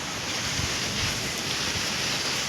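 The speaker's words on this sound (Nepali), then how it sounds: "यहाँ चाहिँ हुरी बतास चलेको छ।" Strong storm wind blows steadily and continuously, a loud broadband roar with gusty buffeting close to the microphone and no voices.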